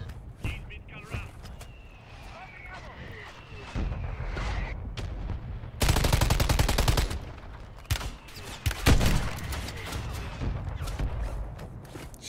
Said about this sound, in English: Who are they shooting?